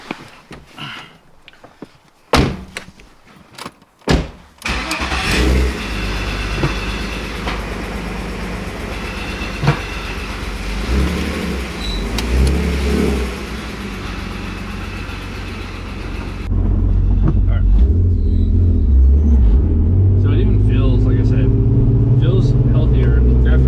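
A cheap $400 drift car drones while driving, after several sharp knocks and clunks at the start, then a steady engine and road rumble that grows louder and deeper near the end, with talking throughout.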